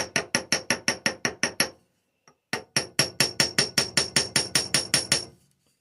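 Repeated sharp hammer blows on a copper rivet seated in a rivet set, clipped in a vise: a fast run of about ten ringing metallic strikes, a brief pause with a light tap, then another steady burst of a dozen or more, close and loud.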